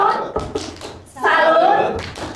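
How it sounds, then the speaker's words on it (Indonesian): A group of adults at a school gathering performs the 'tepuk salut' clapping chant, with short bursts of claps mixed with chanted voices, then a sustained shouted call near the end. "Kita beri tepuk salut."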